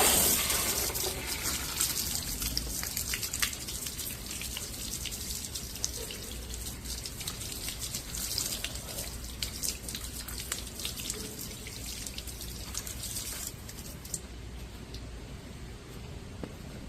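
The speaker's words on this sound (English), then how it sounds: "with a slow stream of water, you should be able to get a coated panel pretty much dry" A slow stream of water rinses a car panel coated with Meguiar's M888 Beyond Ceramic, a continuous close trickle and splash with light dripping and no talk.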